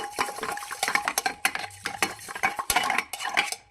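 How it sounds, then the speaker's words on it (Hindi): Cooked rice stirred in a metal pot with a rod from a stand gives dense, close scraping and clinking against the pot in a steady run of strokes, with no talking. "चावल को मिक्स करने के लिए मैं स्टैंड की डंडी यूज़ करूँ।"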